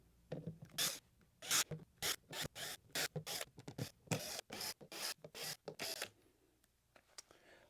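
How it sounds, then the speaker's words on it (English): Screws are worked loose one after another from the perimeter of a subwoofer plate amp: a close, dry run of about a dozen short scraping, rasping bursts in a steady rhythm, with brief quiet gaps between them. "I will go ahead and unscrew the 12 perimeter screws just like I did the plate amp"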